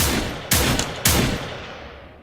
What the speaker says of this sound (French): vous allez me tirer 3 balles. À mon commandement, top!